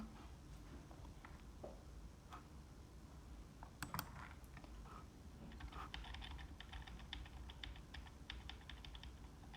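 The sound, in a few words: computer clicking and typing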